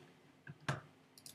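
A single sharp computer mouse click, close and brief, with a faint second tap just before it in a quiet room.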